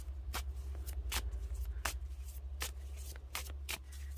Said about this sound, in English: they are just so enjoyable to shuffle